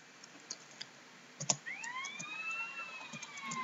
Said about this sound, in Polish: No to odpalamy wóz strażacki.